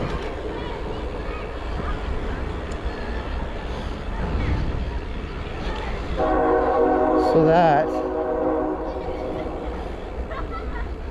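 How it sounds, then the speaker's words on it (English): A small park railway train rumbles past with a horn sounding for a couple of seconds midway, the train noise fairly close, while people talk over it. "Little railway thing that goes all around here."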